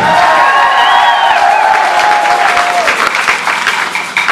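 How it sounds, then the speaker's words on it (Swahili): A church congregation claps in a dense, loud, sustained burst of applause, with high wavering ululation cries rising over the clapping early on before the clapping carries on alone. "Wapi makofi na wewe na vigelegele?"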